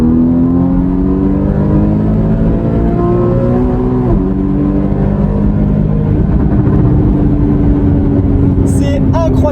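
A Porsche Cayman GTS 981 flat-six engine revs and pulls through the gears, a loud rising and falling drone with a shift near the middle and a brief higher whine at the end.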